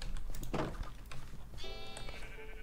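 A Minecraft sheep gives a short bleat, followed by a second, longer, wavering bleat, both close and clear in the game with no talking over them.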